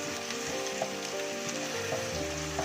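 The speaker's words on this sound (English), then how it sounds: "We will mix the spices with the masala well and let it saute for about 2 minutes." Spices and chili powder sautéing in hot oil with masala for a chicken gravy, a steady close sizzle and crackle throughout with occasional faint stirring clicks and no voices.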